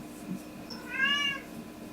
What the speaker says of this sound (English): My cat will not stop meowing.